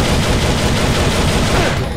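Sustained rapid gunfire from the Devil May Cry video game on PS2, a dense, loud continuous volley of shots filling the whole stretch with no pause.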